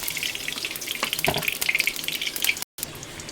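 Hot oil spattering in a wok before dried fish goes in: a steady, moderately loud crackle and hiss with a few sharper pops, briefly cut to silence near the end.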